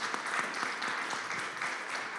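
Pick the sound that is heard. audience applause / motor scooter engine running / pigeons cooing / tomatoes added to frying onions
audience applause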